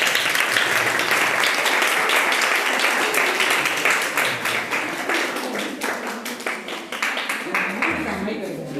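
An audience applauds to welcome the winning group's captain at a quiz prize presentation, steady dense clapping that continues for several seconds, loud and fairly close, with some talk mixed in.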